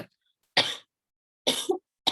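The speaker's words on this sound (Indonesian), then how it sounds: "batuk mulu." Two sharp coughs, spaced about a second apart, close and clear against silence, with the start of a third at the end.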